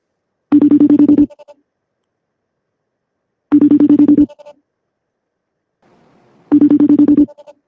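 A phone call rings out, three loud, identical ringback bursts of about a second each, spaced evenly in otherwise silent air.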